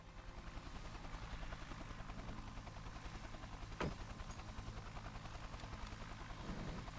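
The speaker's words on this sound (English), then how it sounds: "Bye-bye, helicopter." A video game helicopter drones steadily at a low level, a continuous rotor thrum with a faint gunshot-like pop midway and no talking.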